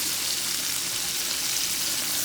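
Pork chops fry in a hot pan with a steady, hissing sizzle that stays even and close for the full stretch, without any talk over it.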